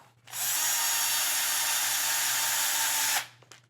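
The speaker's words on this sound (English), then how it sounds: "we're going to insert these 2 screws." A power drill drives two screws into the remaining receiver screw holes of a FastEddy Bearings DR10 rifle build, one steady close whirring burst lasting about three seconds, then a brief tail of handling.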